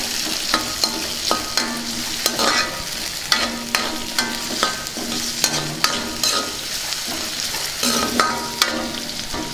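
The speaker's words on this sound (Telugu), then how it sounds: "ఇప్పుడు కరివేపాకు వేసుకుందాం. దీన్ని ఒకసారి కలుపుకుందాం." Onions, green chilies and curry leaves sizzle in hot oil for a tempering while a spoon scrapes and stirs the pan in repeated sharp strokes, close and clear, with no talking.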